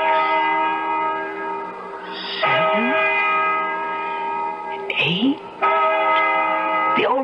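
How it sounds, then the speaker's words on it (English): Church bell tolling as a radio drama sound effect, steady sustained ringing tones layered across the whole stretch, with a few brief swelling sweeps breaking in between strokes. "Listen to that bell."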